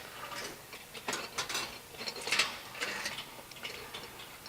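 A wrench works the bolts on the lid of a PRM SS 5 cartridge filter housing, giving quiet ratcheting clicks and metallic ticks in short irregular bursts, close by with no talking.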